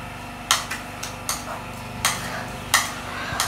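A spoon clinks and scrapes against a small plate of akidi in a home kitchen, several sharp metallic taps spaced irregularly, close and fairly quiet, with no talking.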